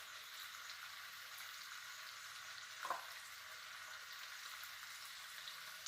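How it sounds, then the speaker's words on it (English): Marinated prawns fry in hot oil with a soft, continuous sizzle, one faint clink midway through and no voices. "And prawns fry"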